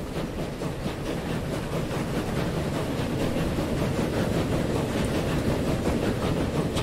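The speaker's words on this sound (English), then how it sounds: "this train's just coming out." A train rolls out in a railway-building video game, a continuous rumbling rail sound with faint rhythmic clatter holding steady at close range.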